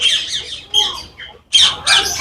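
Parrots give loud, harsh squawks close by in two bursts of overlapping shrill calls, separated by a brief pause, with no talking.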